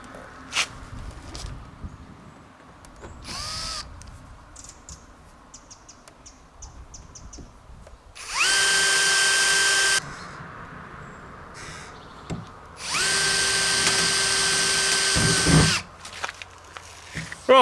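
A cordless drill bores a 3mm pilot hole in a Nissan Almera N16 body for a CB aerial, whining up in two loud, sustained bursts of a few seconds each, separated by quieter clunks and handling noises nearby.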